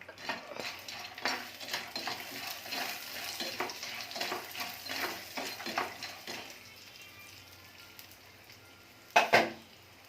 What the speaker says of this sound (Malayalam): വറുത്ത് കോരാം.